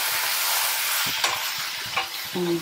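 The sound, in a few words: gongura leaves cooking in oil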